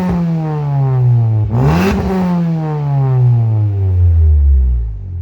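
Car engine with an ITB muffler revving hard, loud and close: a rising then falling harmonic whine with a sharp blip mid-way, then a long smooth rev climb and drop, with no talking.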